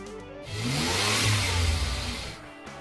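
A King Midget car engine revs up at an outdoor apples and autos car show, a loud swelling rev that rises, holds for about two seconds and falls away, with no talk over it.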